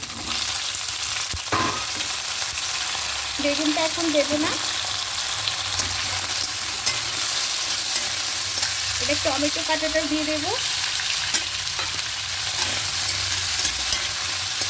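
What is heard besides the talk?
frying taro, potato and tomato in oil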